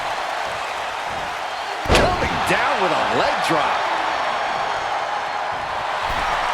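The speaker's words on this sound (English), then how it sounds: "The crowd is fired up." Wrestling arena crowd cheering loudly and continuously, with a sharp slam of a body hitting the ring midway and a commentator talking over the roar.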